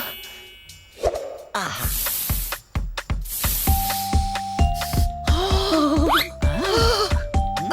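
Itching spray squirted from a perfume bottle: several short hissing bursts, close and fairly loud, over a cartoon backdrop of music tones and chimes.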